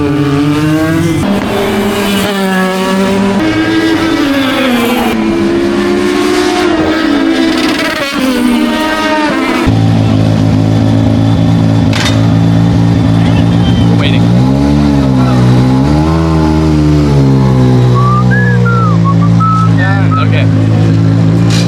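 Late model race cars lap during a dirt track practice session, engines revving and droning with rising and falling pitch as cars pass, loud and continuous while people talk over them.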